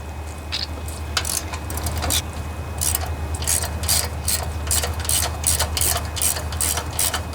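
Socket wrench with a long 3/8 socket ratcheting on a Briggs and Stratton twin-cylinder engine, a rapid close run of loud metallic clicks in quick bursts over a steady low hum.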